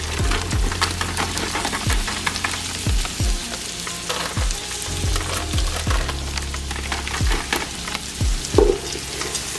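Vegetables and sweet peas cooking in a pan for a creamy tuna casserole, a steady close sizzle and hiss with repeated sharp knocks of a utensil stirring against the pan.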